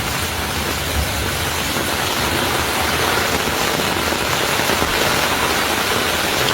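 Monsoon rain pours steadily onto flooded Delhi streets, a dense, continuous hiss of heavy downpour that stays loud and unbroken throughout with no voices.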